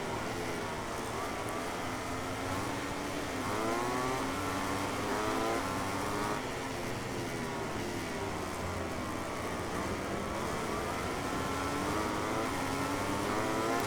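Motorcycle engines race in MotoGP 18 at the Japan circuit, a continuous buzzing whine that rises and falls in pitch through repeated shifts, steady and fairly loud with no talk over it.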